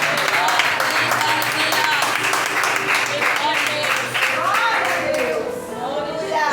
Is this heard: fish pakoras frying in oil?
no